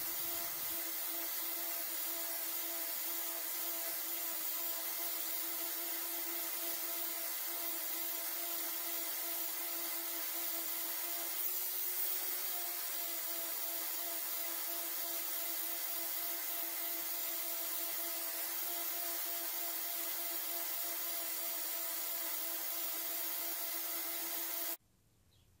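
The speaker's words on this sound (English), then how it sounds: "Now I'm sanding off the excess paint." A power sander works steadily across a painted wooden grave marker, taking off excess paint with a continuous, even whirring hiss that holds constant and close before cutting off abruptly at the very end.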